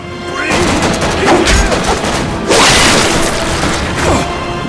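Gunfire and explosive booms from The Darkness II shooter game, loud and dense, with whooshes and mechanical clatter layered over a sustained roar.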